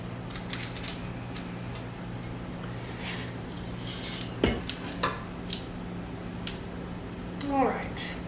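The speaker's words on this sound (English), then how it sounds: "keep scooping up dough and putting it on my pan" Cookie dough scooped out and dropped onto a second metal baking pan, giving scattered light metallic clinks and scrapes over a steady background hum, with a few louder knocks near the end.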